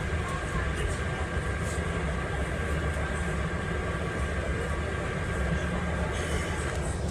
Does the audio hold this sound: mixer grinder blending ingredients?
no